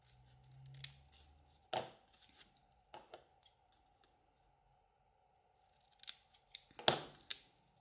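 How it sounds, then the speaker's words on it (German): Scissors snip paper glue tabs for a handmade craft box, a few separate clusters of sharp, close cuts with quiet pauses and a faint steady tone between them. "Auch hier schneide ich wieder meine Klebelaschen, wie gerade bei der Box."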